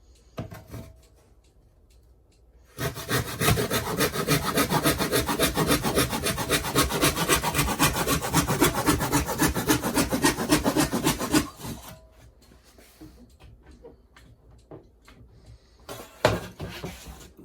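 Hand saw cutting freehand through wood, a steady loud run of rasping back-and-forth strokes lasting about nine seconds, then stopping, with a few light knocks and handling sounds afterward.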